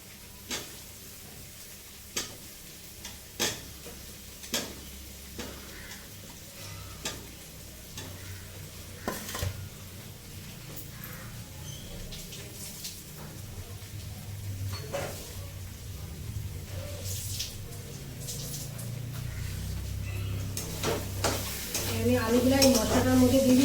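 Potatoes tossed into a pan of cooked spice masala, with rhythmic stirring scrapes and clinks over a growing sizzle that gets louder as frying continues; no talk.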